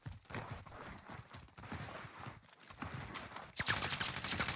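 Warzone gunfire crackles in rapid bursts, quiet and somewhat distant, over scuffling movement. Fire grows harsher and denser near the end.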